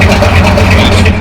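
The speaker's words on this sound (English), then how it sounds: "Ford Galaxy sounds absolutely ridiculous with a 428 in it." A Ford Galaxie with a 428 V8 runs loud and close at a car meet, a steady deep rumble with a constant low throb through the whole moment.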